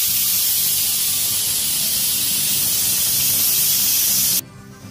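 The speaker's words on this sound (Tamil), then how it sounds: "ஒரு விசில் வந்துருச்சு" A pressure cooker cooking egg biryani lets off its whistle as a loud, steady hiss of escaping steam for about four seconds, then cuts off abruptly. No one speaks.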